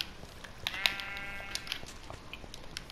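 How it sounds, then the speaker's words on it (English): Sheep bleating in Minecraft on PlayStation 4: a few short, synthetic bleats spaced through three seconds, with scattered clicks and small game effects over quiet background noise, no talking. "But I have to find another sheep."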